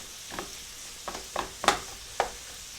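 Garlic and beef mixture frying over medium-low heat in a pan, with about five scraping stirs of a utensil breaking it up, each a short sharp scrape over a faint steady sizzle.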